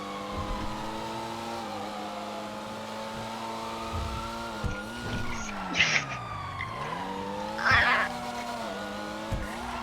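A police car chase in the video game GTA 5: wailing siren tones sweep up and down over engine drone, with tire screeches and skids bursting out in the middle and later, moderately loud.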